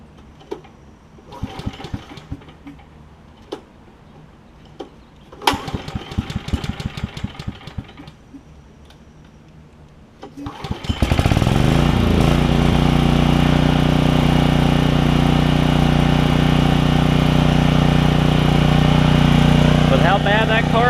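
Briggs & Stratton Vanguard engine on a Generac generator, freshly carb-cleaned, starting up after some clanks and handling noises, then running steadily and loudly with a constant mid-pitched drone.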